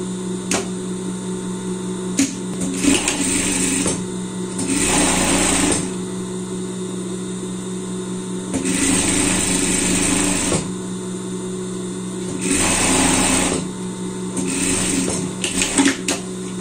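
A sewing machine stitches a pair of pants, running in three steady bursts of about two seconds each with quiet pauses between, loud and close with no talking.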